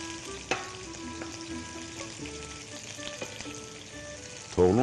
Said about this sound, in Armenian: թողնում ենք սոխը տապակվի